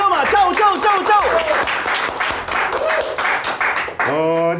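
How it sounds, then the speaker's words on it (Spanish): On the set of a comedy show, audience clapping rattles along beneath voices that laugh and call out loudly, followed by a sustained sung or tonal voice at the very end. "Bueno, fuerte aplauso"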